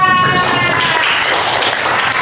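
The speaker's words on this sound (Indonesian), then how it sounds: "kalau sudah selesai, tepuk tangan untuk kita" Students in a pharmaceutical chemistry class clap in a loud, steady wash of applause that fills the whole stretch, with faint voices mixed in.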